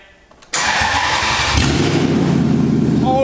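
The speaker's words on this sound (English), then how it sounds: "Maserati V8." A straight-piped Maserati GranTurismo V8 with no exhaust or lambda sensors fires up after a short crank, bursting into a very loud, raw, rumbling idle that stays harsh and close.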